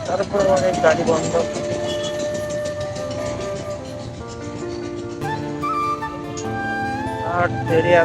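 A train rumbles past a railway level crossing amid a busy traffic jam, its steady rolling drone and horn-like tones sustained throughout, with engines and voices around it.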